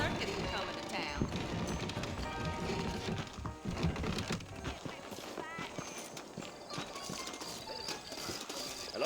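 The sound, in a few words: horses trotting, from video game Red Dead Redemption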